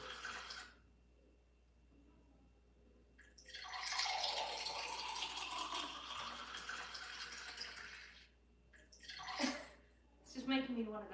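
A grey parrot imitates running water, producing a sustained splashing, faucet-like rush for several seconds at a low level, followed by brief chirpy whistles and squawks.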